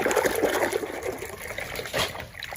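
Water trickles and splashes in short uneven bursts while a toy animal is washed clean, close up and moderately loud, with no talking.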